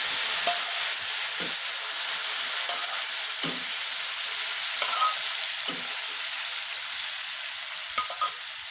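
Vegetables sizzling in a hot pressure cooker, a continuous bright frying hiss with occasional soft clinks and stirring knocks, close and steady without talk.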